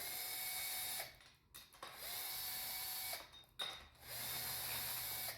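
A power wrench spins bolts loose on a penny press mounted on a post, whirring in sustained high-pitched runs broken by two short pauses, fairly close.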